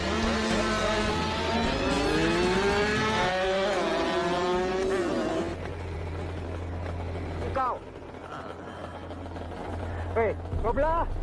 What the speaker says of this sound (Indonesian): Mereka pun mengetes motornya di sirkuit.